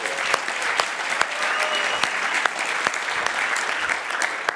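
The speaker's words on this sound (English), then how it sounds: "Let's give you a round of applause" A steady round of applause from the audience at the Imagine Cup World Championship finals, loud and continuous throughout, with sharp individual claps standing out above the crowd.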